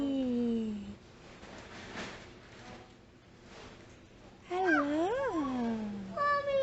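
A cat meows indoors, with a drawn-out cry at the start, a stretch of quieter rustling and voices, then a loud wavering meow and another brief one near the end, close to the listener.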